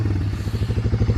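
A Honda 300 four-wheeler idling loudly with its airbox open, a close, rapid throbbing engine pulse with a clattery edge.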